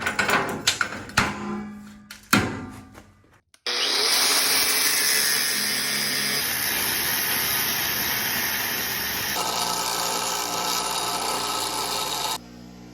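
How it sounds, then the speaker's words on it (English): A cut-off wheel slices through steel end plates during a four-seat rock bouncer build. A few clanks and scrapes come first, then a loud, steady, high-pitched grinding whine runs for about nine seconds before stopping abruptly. "Fixing to cut some plates to cap the ends here"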